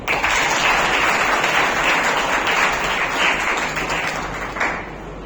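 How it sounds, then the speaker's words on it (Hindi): Sustained audience applause fills an award ceremony hall, a dense steady clapping that swells then gradually tapers off over several seconds. "जोरदार ताली"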